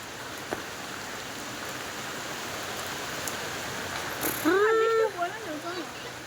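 Rain falls steadily outdoors as a constant hiss throughout, with a person's voice rising briefly near the end.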